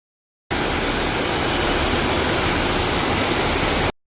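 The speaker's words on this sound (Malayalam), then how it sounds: "കപ്പലിൻ്റെ താഴെ എൻജിൻ റൂമിൽ പോയി." Engines in a ship's engine room run with a loud, steady, broadband roar that starts abruptly after a brief silence and holds constant until cutting off.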